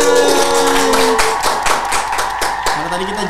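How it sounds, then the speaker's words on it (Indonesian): Brief applause from a small studio audience on a talk show, a few seconds of dense, close hand clapping with voices and a tonal sound running underneath. "Tepuk tangan"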